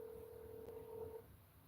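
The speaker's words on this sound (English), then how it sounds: "He's trying to figure out what phone's ringing" A telephone rings faintly in the background of a podcast recording, a steady electronic tone holding for about a second before cutting off.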